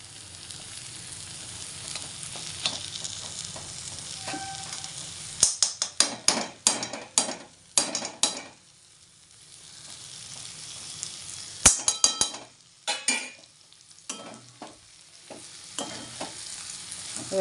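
Banana flower curry with ghee and garam masala added, a quiet sizzle running throughout while a metal spatula strikes and scrapes the pan in sharp clustered bursts of stirring.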